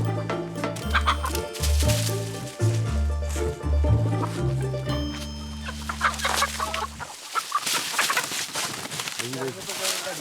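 Chickens being smuggled across the Colombian border cluck and squawk loudly up close in bursts, with someone talking over them partway through.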